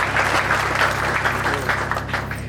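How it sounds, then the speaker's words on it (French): An audience applauds young volunteers from a CEPGL youth building project in Africa, dense steady clapping from a crowd, fairly loud and close, holding even throughout the short burst. "Je vous prie d'applaudir les jeunes."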